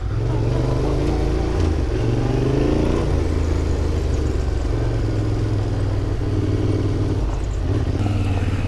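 A large adventure motorcycle on a Southeast Ohio backroad trail drones loudly and steadily, its engine rising and falling in pitch as it works over the terrain, with wind noise on top.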